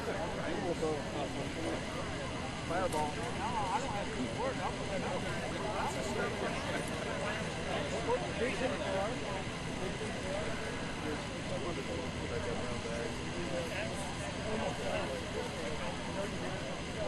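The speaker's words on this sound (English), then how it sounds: "Arrive at the scene in front of the helicopter that has just landed." A medic helicopter sits at a landing scene during a mass casualty incident exercise, its engine and rotor making a steady, fairly close drone under people talking throughout.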